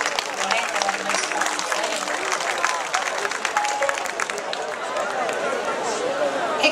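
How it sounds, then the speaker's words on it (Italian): A festival crowd applauds an orchestra with dense, steady clapping at a votive parade float event, while voices chatter and talk throughout underneath the applause. "Facciamo un applauso all'orchestra Minare."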